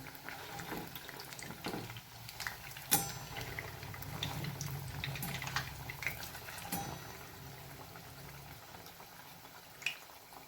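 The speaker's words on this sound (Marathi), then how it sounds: "वडे तळून घ्यायचे तर आता आपण साईड चेंज करून घेऊयात" Sabudana vadas deep-frying in hot oil over a slow flame, a steady bubbling sizzle with a few sharp crackles and pops, close and fairly quiet, with no talking.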